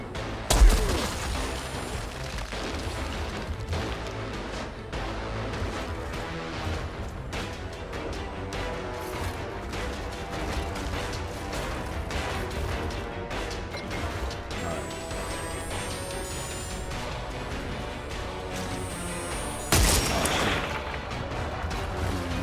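Rapid gunfire and crashing impacts from a firefight in the video game Outriders, shots crackling densely and continuously for over twenty seconds, with a louder burst near the end.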